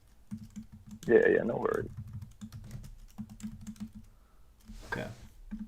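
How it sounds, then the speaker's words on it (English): Keyboard typing while entering math homework, soft clicks running quietly through most of the clip under a short spoken reply. "This is the problem with typing math."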